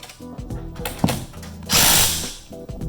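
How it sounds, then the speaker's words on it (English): A hand ratchet or driver tightens a nut on the rail of a Genie screw-drive garage door opener, quick clicking bursts with a louder whirring spell near the middle. "put the nut back on and tighten it back down"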